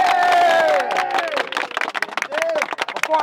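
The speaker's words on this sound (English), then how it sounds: "Clap it the fuck up." A football team claps together in a locker room, sharp rapid hand claps mixed with shouting voices and crowd noise, loud and close, with a voice speaking over it.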